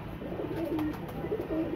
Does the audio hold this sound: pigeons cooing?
yes